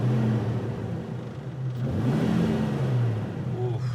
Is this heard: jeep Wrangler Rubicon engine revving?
yes